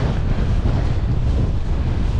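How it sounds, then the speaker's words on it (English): Strong wind on high, exposed ground buffets a cyclist's microphone in a loud, continuous roar with no other sounds audible. "God, it's windy up here."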